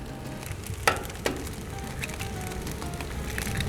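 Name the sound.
scrambled eggs frying on a Blackstone griddle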